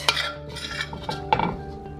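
Utensil scraping longanisa sauce out of a container, a few distinct clinks and scrapes of metal on the dish, close and quiet with short gaps between strokes.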